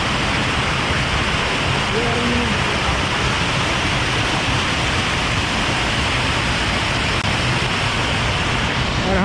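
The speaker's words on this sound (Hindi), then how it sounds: "दिस इज जाना वाटरफॉल।" Jana Falls near Manali pours down in a constant, loud broadband rush of falling water, with faint voices briefly audible beneath it.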